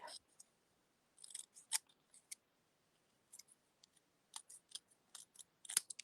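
Scissors snipping a thin paper flag for a stamped card, quick close clusters of crisp cuts with short pauses between them in a quiet room.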